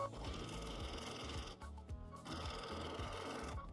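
A sewing machine stitching free-motion quilting around an appliqué shape hums in rapid continuous bursts, pausing briefly twice as the fabric is repositioned, close and alone.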